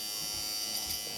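Electric shaver running during a shave, a steady close buzzing drone held for about a second with no talk over it.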